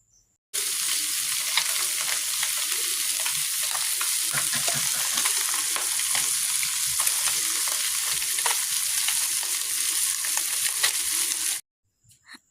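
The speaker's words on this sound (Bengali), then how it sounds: "এখন আমি মাছগুলোকে ভেজে নেব লবণ হলুদ মাখিয়ে রেখেছি" Fish rubbed with salt and turmeric fries in hot oil, giving a loud, steady sizzle with crackling pops that runs unbroken for about eleven seconds before stopping abruptly.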